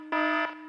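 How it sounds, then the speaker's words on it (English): A steady electronic alarm tone, sustained and loud for about a third of a second before cutting back to a quieter hum, heard alone. "That's the I gotta go to work alarm"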